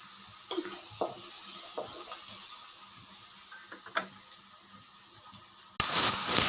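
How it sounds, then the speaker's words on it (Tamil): Onions sizzle quietly in hot oil for a gravy, a soft continuous frying hiss punctuated by a few light stirring clinks, with a louder burst of sizzle near the end. "இந்த எண்ணெய் காய்ச்சிட்டு வெங்காயம் போட்டாச்சு"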